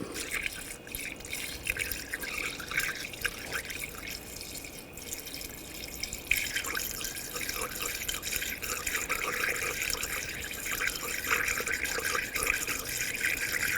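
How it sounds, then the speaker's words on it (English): Coolant, a 50-50 mix, poured through a funnel into the radiator filler of a 2014-2020 Nissan Rogue, a steady close trickle and gurgle of liquid running for the whole stretch, with a brief louder splash partway through. "I'm going to pour it in and fill it up."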